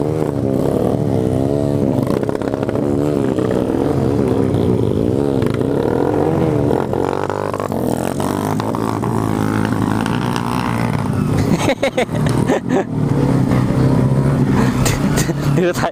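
A motorcycle stuck in mud on a trail revs loudly and continuously up close, its engine note wavering as it strains, with a few choppy bursts near the end.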